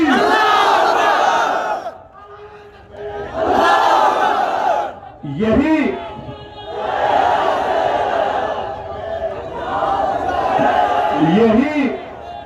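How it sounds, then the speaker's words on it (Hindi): A large rally crowd in Jaunpur roars the slogan Nara-e-Takbir in loud, sustained waves, three long bursts of massed voices broken by short gaps in which a single voice calls out. "तो जोर से नारा लगाइए, नारे तकबीर।"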